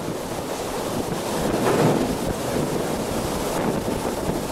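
Hurricane Charley's winds roar through a corridor in Punta Gorda, Florida, in 2004, driving debris and water: steady, loud broadband rushing that swells and buffets the microphone, with no talk.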